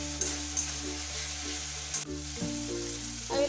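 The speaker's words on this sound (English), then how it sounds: "now it's time to add the chopped tomatoes" Chopped tomatoes sizzle in a hot pan of raw jackfruit curry, a steady close frying hiss with a few brief stirring bumps.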